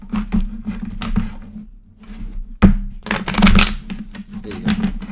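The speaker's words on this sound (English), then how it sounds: "More shuffle." A deck of cards is shuffled by hand in a quick series of crisp riffles and flutters, with short pauses and a louder burst of rapid riffling near the end, close and alone.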